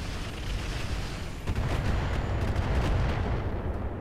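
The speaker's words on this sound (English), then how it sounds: "Just gonna show up and fire a couple medium lasers" Medium lasers fire in the Roguetech video game, heard as a loud, dense rumbling roar of weapon blasts with a sharp surge partway through and no talk.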